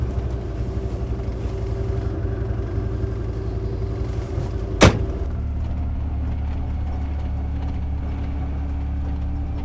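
Steady low engine rumble of a vehicle driving slowly across a lambing field, close and continuous, with one sharp loud knock or bang midway through.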